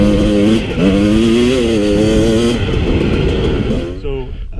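A Husqvarna TE250i EFI two-stroke dirt bike ridden through tight terrain in second and third gear, its engine buzzing close and loud with repeated throttle blips and revs, the tone dropping off at the end.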